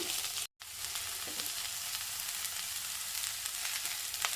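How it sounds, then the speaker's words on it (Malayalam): Chopped onion sizzles and fries steadily in a pan for okra curry, with a continuous bright crackle, soft scraping stirs and a brief dropout near the start. "സവാള അരിഞ്ഞത് ഇട്ട് കൊടുക്കാം ഇളക്കി കൊടുക്കാം"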